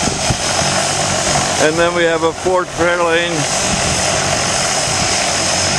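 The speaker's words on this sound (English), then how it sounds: "a hell of a lot of noise from this plane that is just about ready to take off with a load of skydivers" A propeller plane loaded with skydivers runs its engine before takeoff, a loud steady drone that fills the scene while someone talks over it for a couple of seconds.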